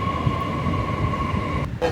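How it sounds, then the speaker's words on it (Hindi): A Delhi metro train rolls steadily past a station platform, with a sustained mid-pitched rumble and tonal hum at close range that cuts off abruptly near the end. "ये सामने वाली लाइन पर मेट्रो आ गई है"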